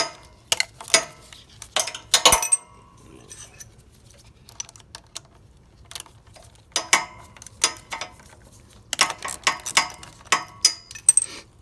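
Nuts are worked off a generator carburetor with a wrench, giving scattered metallic clicks, clinks and ratcheting taps, some in quick clusters, separated by quiet gaps.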